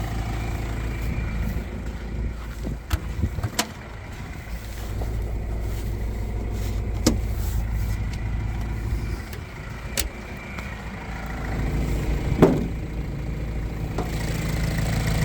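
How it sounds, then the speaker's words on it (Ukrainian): A 2007 Renault Trafic 1.9 engine idles steadily with a low, constant rumble, punctuated by a few sharp clicks and knocks close by. "Стісно працює двигун, нарікань немає ніяких."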